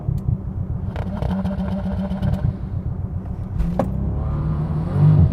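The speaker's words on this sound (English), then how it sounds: "I'm going to launch this Bentley." A 2019 Bentley Continental GT launching at full acceleration, its engine roaring loudly and steadily up close with a deep low rumble, swelling heavier near the end.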